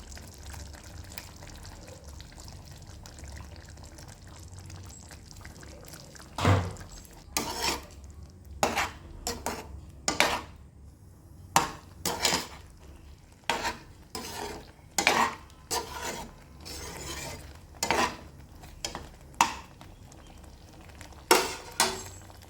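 Ground coconut paste is stirred into a simmering eggplant tamarind curry in a pot, with a series of sharp metal spoon scrapes and clanks, sparse at first and then in a quick repeated rhythm.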